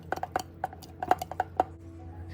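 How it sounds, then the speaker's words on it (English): A spoon clinks and scrapes against a bowl while stirring flour clumps into a sourdough bread mixture, making a quick, irregular series of close, sharp taps over a faint low hum. "But now here I'm just mixing all of the clumps of the flour"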